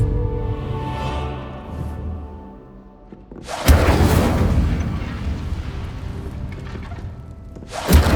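The Incendio fire spell is cast in the Hogwarts Legacy video game, bursting into a loud roaring whoosh over a soft musical hum, holding as a fiery rumble, then another sharp burst at the end.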